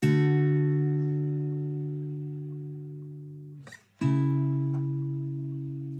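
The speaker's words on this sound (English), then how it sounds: "I'm going to start with the guitar, the acoustic guitar" An acoustic guitar chord rings out and slowly decays, then a second strummed chord follows and sustains.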